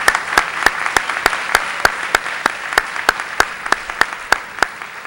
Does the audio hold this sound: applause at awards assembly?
yes